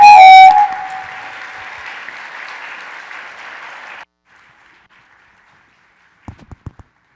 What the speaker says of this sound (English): We'll just give them a big round of applause and invite them over.